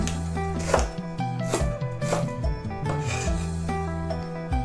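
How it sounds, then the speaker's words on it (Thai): Lemongrass and shallots pounded in a mortar for a Thai snail curry, giving repeated dull thuds and rubbing, grinding scrapes at an uneven pace, close and fairly loud over a steady background hum. "ก็จะโขก โขกตะไคร้กับหัวหอมอีกทีนะคะ"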